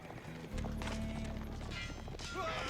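Horses gallop in an Age of Empires match, a steady clip-clop of hooves running continuously alongside battle and game effects, fairly loud throughout.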